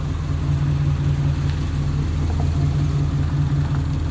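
A 1966 Pontiac Catalina Wagon engine running steadily, a deep even idle rumble with a constant low throb, close and loud, no speech.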